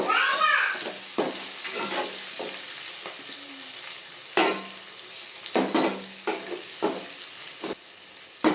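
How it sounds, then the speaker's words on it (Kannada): Onions sauté in a pan for okra gravy, sizzling steadily while a spoon scrapes and stirs in repeated uneven strokes close by. "ಈರುಳ್ಳಿ ಒಂದು ಸ್ವಲ್ಪ ಟ್ರಾನ್ಸ್ಪರೆಂಟ್ ಆಗೋವರೆಗೂ ಮಿಕ್ಸ್ ಮಾಡ್ಕೋಬೇಕು"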